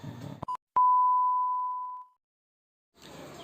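A mobile phone sounds a single clear electronic tone that holds steady for over a second and then fades, after a short blip, between bursts of nearby talking.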